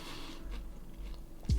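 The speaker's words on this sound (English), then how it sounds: "I think some people hate chewing noises, so please do feel free to mute or drop out for a bit." Someone chews a juicy pear close to the mic, giving a short stretch of soft, wet crunching and biting with no talk.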